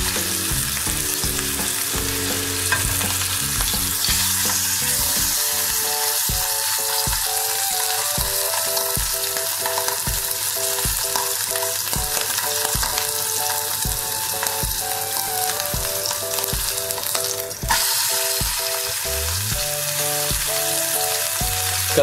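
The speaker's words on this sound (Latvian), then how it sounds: "Kad gaļa ir apcepusies no visām pusēm" A veal chop sears in a hot pan, browning on all sides before onions go in, giving a steady, close, continuous sizzle and crackle with popping spits of fat throughout and no talking.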